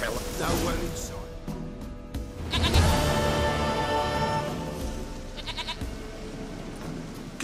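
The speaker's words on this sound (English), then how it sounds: "Goat of mine, dearest, sweetest goat." A goat in The Witcher 3 bleats in several short, wavering cries spread across the stretch, heard over game background sound with someone talking.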